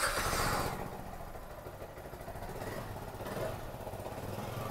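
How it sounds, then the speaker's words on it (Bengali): A 2025 Yamaha R15M Carbon Fiber Edition motorcycle idles with a steady, even exhaust drone. It opens with a brief louder burst, then settles into a constant close rumble with no talking. "চলুন তাহলে এবার আমি এক্সস্টের সাউন্ডটা আমি আপনাদেরকে শোনাচ্ছি।"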